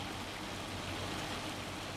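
Hailstorm in a farming video game, heard as a dense, steady hiss of pelting ice and rain on surfaces, continuous and fairly faint, with no voice over it.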